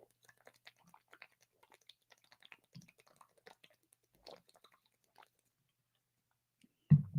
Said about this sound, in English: That must sound crazy, hearing me gulp down